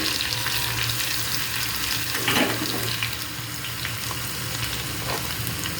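Cumin, mustard seeds and ginger-garlic paste sizzle in hot oil for a dal tadka, a steady, dense frying hiss with crackly pops. It runs close and continuous throughout, with no talk.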